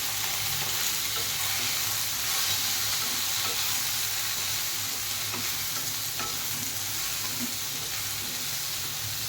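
Four tomatoes sautéing for South Indian crab curry, a steady close sizzle and frying hiss with faint stirring scrapes, continuous and even with no talking.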